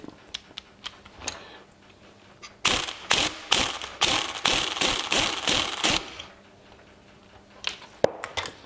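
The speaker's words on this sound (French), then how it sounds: "Moi je vais caler une petite BTR, je pense que ça sera assez costaud pour dévisser" A hex key on a ratchet works loose a 50cc scooter fork damper rod, with a few isolated clicks followed by a close, loud run of rapid ratcheting bursts and then scattered single clicks.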